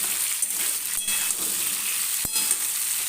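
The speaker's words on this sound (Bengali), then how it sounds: "আমি একটু গ্যাসটা এবার মিডিয়ামে করে নিয়ে তাকে ভেজে নিচ্ছি" Vegetables frying in oil over a medium gas flame for a rohu fish curry, giving a steady close sizzling hiss throughout, with one sharp click partway through.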